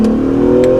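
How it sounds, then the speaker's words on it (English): An Acura NSX accelerating, heard as a steady, loud engine drone with a strong sustained tone throughout the short burst, no talking over it. "So we'll get up, do a little bit of an acceleration."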